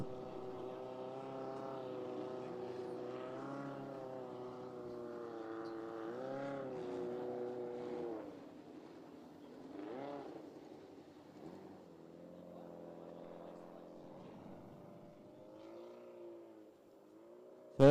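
Light 1.6 Oz hydroplanes race on water, their small engines whining at a high, shifting pitch from a distance and fading in and out, the sound fairly faint with no talk over it.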